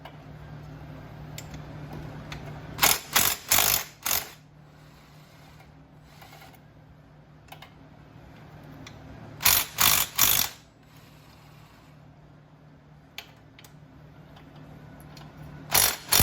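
A hand ratchet backs out the 10 mm top-end bolts on a 2003 Polaris Sportsman 90 ATV, sounding in two close, loud bursts of rapid clicking separated by quiet stretches, plus a few single clicks near the end.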